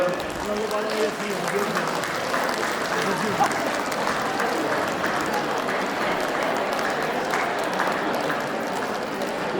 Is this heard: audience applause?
yes